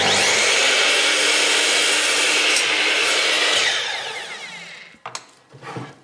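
Radial arm saw making a clean trim cut through a wooden piece, a loud steady whine of blade and motor that holds, then fades as it winds down, with a few light knocks at the end.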